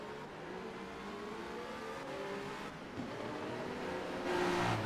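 Simulated race cars, LMP2 prototypes at Suzuka, rev and whine as they pull away from the pit lane in a racing game, several engine tones rising together at moderate level with no talk.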